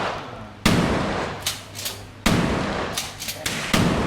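Gunshots at an outdoor shooting range in Krabi, three loud sharp reports spaced about 1.5 seconds apart, each followed by a short echoing tail and handling clicks.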